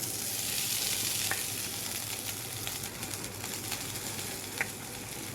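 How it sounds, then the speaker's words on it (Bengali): Flattened rice poha and scrambled egg are stirred in a hot pan, a constant bright sizzle with occasional scraping taps of the spoon throughout. "একটু নাড়া দিয়ে নি।"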